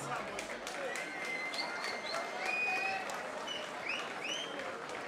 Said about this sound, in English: Please give a big, big round of applause to these fighters in the cage.